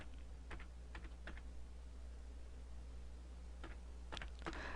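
Close, quick keystrokes on a computer keyboard as a new folder name is entered in Photoshop CS5, in two short bursts of clicking separated by a pause, over a steady low hum.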